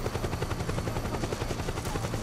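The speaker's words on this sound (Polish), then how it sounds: "za to jest ten śmigłowiec nieszczęsny, który na szczęście mnie nie widzi" Helicopter in the video game Metal Gear Solid 4, a steady rotor throb with rapid chopping pulses that stays loud and continuous with no speech.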